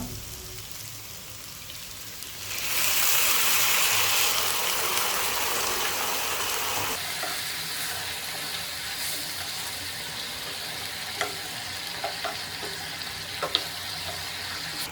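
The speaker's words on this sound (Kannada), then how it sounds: "ಈಗ ನಾನು ಸ್ವಲ್ಪ ನೀರನ್ನ ಆ್ಯಡ್ ಮಾಡ್ಕೊಳ್ತೀನಿ" Water poured into chicken frying in a pan sets off a sudden loud burst of hissing sizzle that slowly settles into steady bubbling, broken by a few sharp clicks and scrapes near the end.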